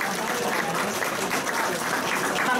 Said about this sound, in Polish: Także wielkie brawo.